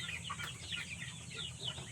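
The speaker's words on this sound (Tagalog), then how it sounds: "Pero ngayon manok na sila." Chickens clucking and murmuring steadily, several birds close by, with soft overlapping calls over a low rumble of background noise.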